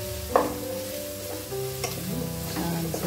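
Curry leaves crackle and sizzle in hot oil in a pan, a close, continuous fry with a few sharp pops and stirring clinks over it.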